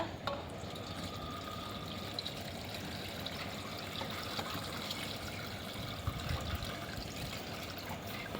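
Water poured into smashed tomatoes in a pot for a Telangana village-style tomato rasam, a steady continuous trickle and splash lasting the whole stretch, close and moderately quiet with no talk.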